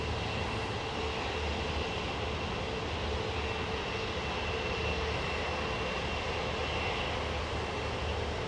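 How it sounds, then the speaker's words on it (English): Airliner jet engines roar during a takeoff roll at London Heathrow Airport, a dense, constant, loud rumble and hiss filling the whole stretch without talking. "Very short takeoff roll there"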